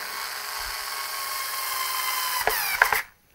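A power screwdriver runs with a steady high-pitched whine while driving screws into a home cinema speaker enclosure, then bogs down with a few strained bursts as the screw seats before it stops abruptly.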